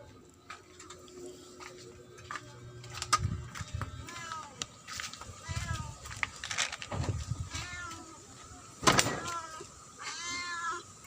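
A hungry cat meows repeatedly and insistently for food, with close, drawn-out cries rising and falling between rustling and handling noises, while people talk nearby.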